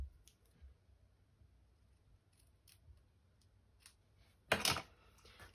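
Scissors cutting ribbon for a handmade gift box craft, with a few faint snips followed by one louder, close, crisp cut near the end against a quiet background.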